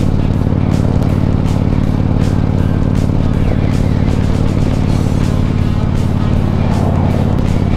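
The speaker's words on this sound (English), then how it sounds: "there's a car caravan coming in the opposite direction" Passing cars of an oncoming caravan rush by on a windy highway while the listener's own vehicle towing a trailer cruises at just under 100 km/h, a steady loud road and engine drone with repeated whooshes of passing traffic.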